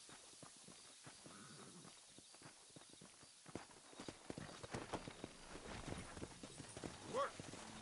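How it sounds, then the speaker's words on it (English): Hooves of horses in Red Dead Redemption clip-clop in a steady walking rhythm, growing louder midway, with faint game ambience and a brief distant voice-like sound near the end. "horses are over here."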